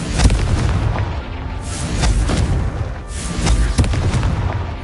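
Repeated booming blasts from the Confringo spell smashing rocks in Hogwarts Legacy, three heavy explosions with rumbling debris spaced a second or so apart, loud and close.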